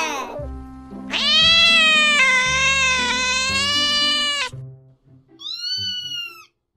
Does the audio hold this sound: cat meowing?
yes